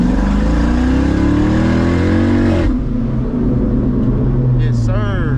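A straight-piped C6 Corvette engine roars loud and close with rising revs as the car accelerates sideways, then the pitch drops briefly and the engine climbs again, with someone talking over it.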